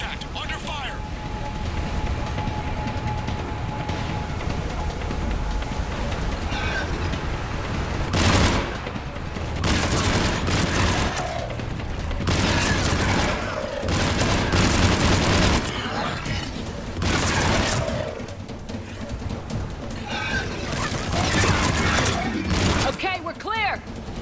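Rapid gunfire bursts and booms from a Mass Effect 3 battle, loud and continuous, with repeated bursts and blasts layered under ongoing game dialogue.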